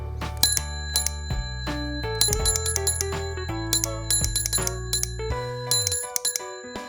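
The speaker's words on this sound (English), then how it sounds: "I've managed to make one using a old bicycle bell, a solenoid, and a push button switch, and of course a 12 volt supply" An old bicycle bell struck by a 12-volt solenoid when a push button is pressed rings in quick, bright metallic dings, some single and some in rapid clusters, loud and close with no talking.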